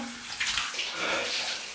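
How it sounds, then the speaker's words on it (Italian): A shower running inside a house, a steady hiss of spraying water that rises and shifts slightly as it hits surfaces, continuous and close with no talking. "Andiamo in casa a fare la doccia"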